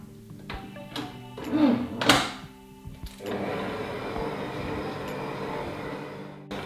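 A dough kneading machine works flour, salt and water for puff pastry, starting with a few knocks and clunks before settling into a steady whirring motor hum that runs on to the end, close and moderately loud.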